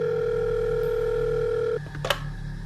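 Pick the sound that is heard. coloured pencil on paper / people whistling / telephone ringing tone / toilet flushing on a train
telephone ringing tone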